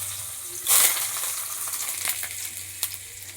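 A dried chili dropped into hot oil with crushed garlic for cooking bottle gourd greens, a burst of loud sizzling spatter that settles into a softer crackle with a few small pops, no speech.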